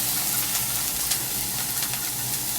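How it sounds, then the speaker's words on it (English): Chopped onion sizzles steadily in a hot pan, a dense continuous crackle and hiss with faint popping, close and even throughout, no voices. "So your onion has been frying."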